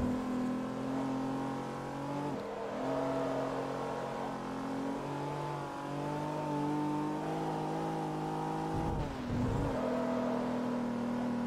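A Class E post-2003 Asian car in Forza Motorsport 3 revs steadily through a race, its engine droning and shifting pitch continuously, with brief lifts and dips around corners.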